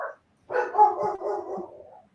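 A dog gives a drawn-out, whining bark-howl up close, one long wavering call after a brief short yip at the start.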